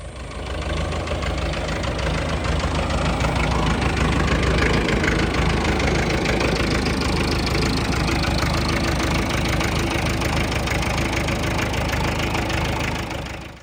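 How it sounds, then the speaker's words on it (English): International B275 tractor diesel engine idling nearby, a loud, steady low rumble with a knocking, chugging texture that holds evenly for several seconds before cutting off. "Trevor's the tractor. He's an International B275"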